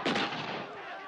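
A single loud gunshot from the 1979 vampire comedy film Love at First Bite, fired as silver bullets, bursts out sharply and then trails off in a long, reverberant rumbling decay.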